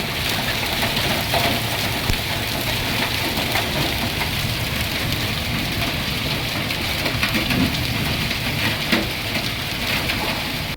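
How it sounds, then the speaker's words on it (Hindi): Heavy rain pours during a Saturday evening storm in Keesara mandal, Medchal district, Telangana, a steady, dense, close roar of falling water that holds constant throughout with no voices. "मेडचल जिले के किसरा मंडल में शनिवार की शाम तेज बारिश हुई है"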